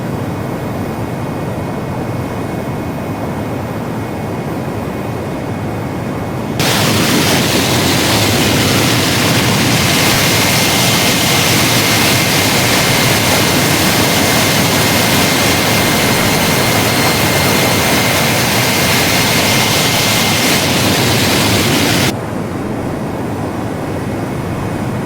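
B-2 Spirit jet engines roaring during takeoff in Microsoft Flight Simulator 2020, a loud broadband rush that swells abruptly, holds steady for about fifteen seconds, then drops back to a quieter idle hum.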